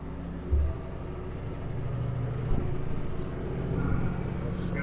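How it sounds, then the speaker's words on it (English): Low, droning engine hum and revving from a car spinning its tires on snow during winter in Castlegar, BC, steady and close with a few thumps, rising slightly toward the end, with no one talking. "Just spinning my tires a little bit."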